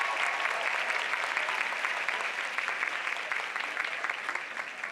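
Audience at a women's empowerment luncheon breaking into sustained, dense applause, loud and even throughout with many hands clapping together.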